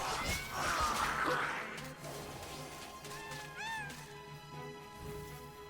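Cats meowing in the video game MediEvil, several drawn-out plaintive meows and yowls, close and clear over a low game ambience, with no talking.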